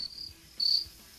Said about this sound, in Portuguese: É do grilo isso aí.